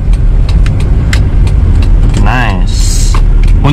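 A 2002 Toyota Kijang LGX with a 2.0 EFI engine hums steadily while driving, its loud, continuous drone running throughout as someone talks over it and a brief rising whine appears near the end.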